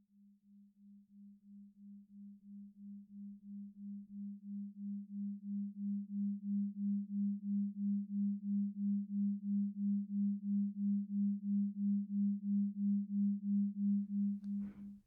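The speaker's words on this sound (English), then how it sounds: "a quiet tone will slowly be faded in" A quiet, steady hearing-test tone pulses in a slow even rhythm and gradually swells louder from near silence, then cuts off abruptly.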